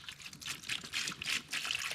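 Water pours into a bucket in uneven splashing bursts, a bright gurgling stream that rises and falls for a couple of seconds with no voices.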